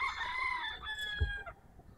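A White Kelso gamefowl rooster crows in one long, drawn-out call that trails off, with a brief thump partway through and a low background rumble.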